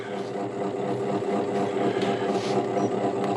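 A wood lathe spins a poplar bowl at 250 RPM, giving a steady, close motor hum with a constant whirring drone and no pauses.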